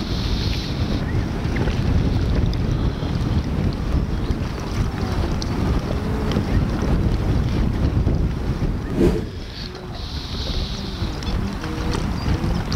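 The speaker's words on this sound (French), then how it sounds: "Bon là on a un vent tourbillonnant" Swirling wind gusting over a lake during feeder fishing for bream, a loud continuous rush with heavy microphone buffeting and low rumble, rising and falling in strength with no speech.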